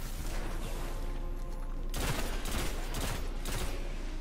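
Scout rifle fire in the video game Destiny, several sharp shots in quick succession over a constant dense game soundscape, fairly loud and close.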